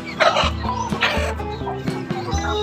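Chickens including a Black Ocelot and Rhode Island Red cross rooster clucking close by in a backyard, repeated short rhythmic clucks in quick succession.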